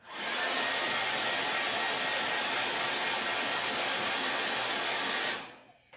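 A hair dryer blows steadily and loudly on chalk paint on a heart-and-home craft sign, a continuous close whoosh for about five seconds before it cuts off.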